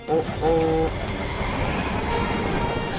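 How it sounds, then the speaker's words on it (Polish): A cartoon train comes along the tracks with a steady rolling rumble, and a few brief horn-like tonal notes sound near the start before it settles into a continuous clatter. "Zitronie nadjeżdża pociąg po torach. Lepiej się zatrzymaj."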